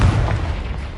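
A single deep explosive boom from the Confringo spell in Hogwarts Legacy, a sharp loud burst at the start that rumbles and fades within a second.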